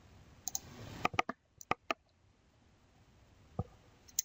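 A computer mouse clicks sharply and close by in software, a few quick single and double clicks spaced out over a quiet background.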